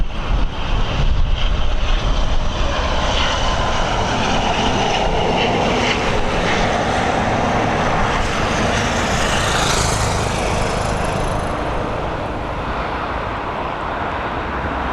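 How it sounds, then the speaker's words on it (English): A Blue Islands ATR turboprop at Dublin Airport roars loudly and continuously, its engine whine and propeller drone swelling near at first and then slowly fading as the aircraft passes. "It's a Blue Islands ATR."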